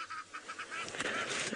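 A goose honks repeatedly as it takes off and flies away, the calls faint and distant against an open outdoor background, heard on an early-morning African safari drive.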